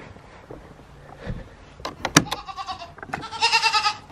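Goats bleat several times in quick succession, loud and close, with a wavering, harmonic cry near the end over faint background rustle.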